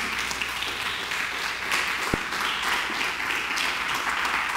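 A church congregation gives steady, dense applause, a continuous close wash of hand claps with one sharp thump partway through.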